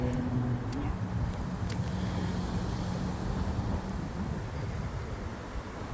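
Strong gusty wind on a lake during bass fishing roars and buffets against the microphone in a dense, continuous rumble, with a low hum from a boat motor underneath.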